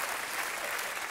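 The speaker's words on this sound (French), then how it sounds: "rien que pour ça, bah, on peut vous applaudir" A brief burst of dense audience applause, steady and even throughout, a crowd of many hands clapping together.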